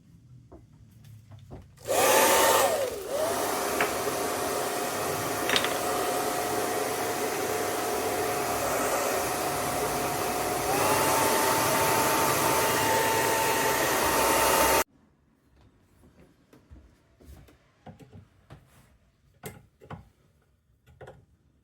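Heat gun or hot-air blower warming the metal case of a Bosch L-Jetronic auxiliary air valve, a loud steady whooshing roar that starts abruptly, runs about thirteen seconds and then cuts off, followed by faint clicks and handling noises.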